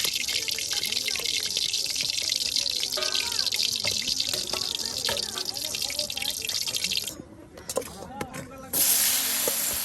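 Eggplants sizzle in hot oil over a wood-fired tin stove outdoors by a riverbank, a steady crackling hiss running throughout with a brief dip near the end; voices talk over it.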